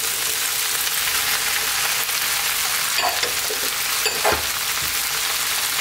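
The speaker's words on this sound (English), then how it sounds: "So let's add in some next stage vegetables. So in my case it will be cauliflower, potatoes" Cauliflower, potatoes and eggplant fry over lively heat in a pan, a steady close sizzle with two sharp clatters of stirring.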